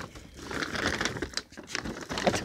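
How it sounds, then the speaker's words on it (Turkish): A plastic pet food bag is handled and squeezed nearby, giving dense crinkling and crackling in quick irregular bursts with no voices. "İşte en çok çıkan atıklardan bir tanesi mama poşeti."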